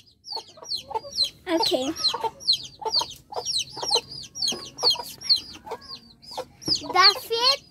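Newly hatched baby chicks on a farm peep in quick, high, upward chirps that overlap nearly nonstop and sound close and lively. A person briefly speaks over them.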